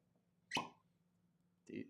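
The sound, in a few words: cork popping out of a bourbon bottle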